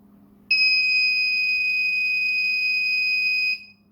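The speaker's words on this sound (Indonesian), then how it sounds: "ini berarti waktu berkunjung sudah habis, maka alarm peringatan bunyi." A steady electronic alarm buzzer signalling the end of visiting time sounds for about three seconds, loud and continuous with a clean high tone, then cuts off over a low background hum.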